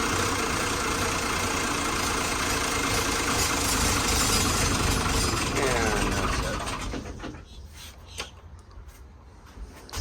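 A boat engine with water in its fuel runs loud and rough near a dock, then fades and sputters as it starts to die, leaving a quiet stretch with a few small knocks.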